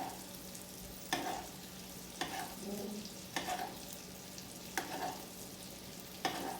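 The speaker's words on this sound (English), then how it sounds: "you're gonna gently put your pan to the side and then just begin basting, which is getting all that butter and" Steak basted with butter sizzles steadily in a pan, with a bright spoon-scrape or splash of butter recurring about once a second over the constant frying hiss.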